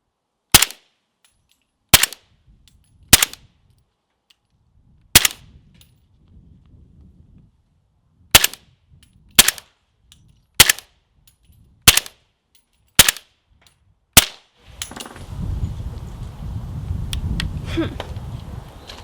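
Suppressed gunshots fired through a Dead Air Nomad suppressor, about ten sharp, fairly loud reports spaced one to two seconds apart, ending in a burst of rumbling outdoor noise.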